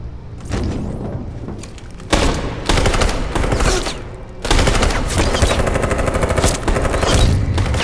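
Bursts of loud, rapid gunfire in Detroit Become Human come in several close volleys separated by brief pauses, with sharp cracks and a dense roar throughout and no talking.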